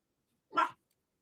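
A single short dog bark sounds close and alone against silence.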